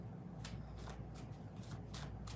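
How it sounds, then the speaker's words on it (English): A deck of tarot cards is shuffled by hand, close and clear. Several quick riffling bursts sound over a steady soft hiss with no talk. "We're gonna shuffle it and see what comes up."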